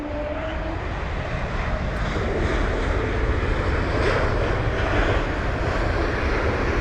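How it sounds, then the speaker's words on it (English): A Lufthansa Airbus A320neo arriving from Frankfurt lands at London Heathrow, its engines a loud, steady, broadband roar that holds close and constant throughout, alone with no voices. "We've got the Lufthansa 320neo though"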